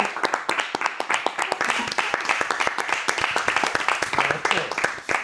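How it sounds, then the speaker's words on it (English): Podcast hosts clap along as the room applauds, a dense run of sharp, close handclaps with a few voices mixed in over five seconds. "Clap it up for everybody."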